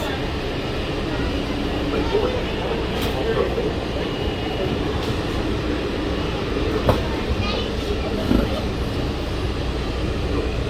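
Steady low rumble and rolling hum inside a Disney Magic Kingdom monorail car in motion, continuous throughout with faint squeaks and a few light clicks, and a voice talking softly over it.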